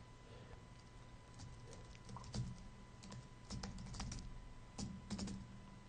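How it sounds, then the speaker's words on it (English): Keystrokes on a computer keyboard as an email address is typed, a quiet run of irregular clicks in short bursts, close to the mic over a steady low hum. "I'll type my email address in again"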